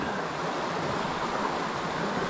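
Waterfall on a small mountain stream in the San Gabriel Mountains in winter, a dense, steady rushing roar of falling water, close and unbroken, with no voices.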